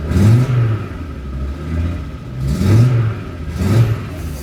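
An Audi Quattro's five-cylinder turbo engine revs in a driveway, three loud, close bursts that rise and fall over a steady idle rumble.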